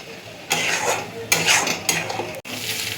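Spice paste frying in hot oil sizzles steadily while a spatula scrapes and knocks against the pan in three or four loud, close strokes, ending with a brief sharp click.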